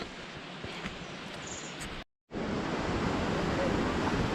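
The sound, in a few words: river flowing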